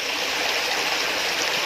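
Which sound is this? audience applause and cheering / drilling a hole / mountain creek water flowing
mountain creek water flowing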